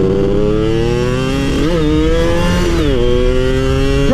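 A 124cc motorcycle from 2002 with a small-diameter aftermarket exhaust revs loudly and close. The engine drones steadily, rising and falling in pitch twice as the throttle is blipped.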